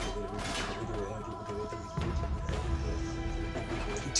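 Sustained gunfire from Uncharted 3 crackles through a dense, loud game mix, with booming impacts and a heavy thud near the middle, continuing steadily to the end.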